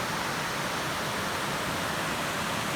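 A cold river pours out of a cave mouth, a steady, loud, broadband rush of water with no pauses or voices.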